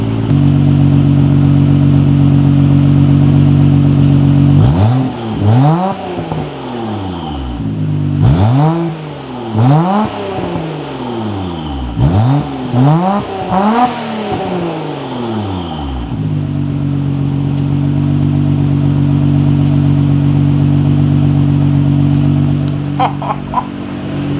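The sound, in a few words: car engine idling with new exhaust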